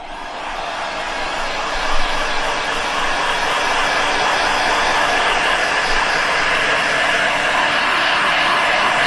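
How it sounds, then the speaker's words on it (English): A hair dryer or heat gun drying a freshly screen-printed t-shirt gives a steady, close, droning blow of air that holds level for the whole stretch, with no talking over it. "a hairdryer will do at home. It's the same sort of thing. All you're trying to do is just dry that off so it'll stick."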